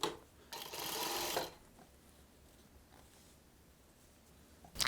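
A sewing machine stitching Salwar pants gives one loud, close, steady whirring burst of about a second, then a quiet stretch with faint handling noises and a brief sharp sound at the end.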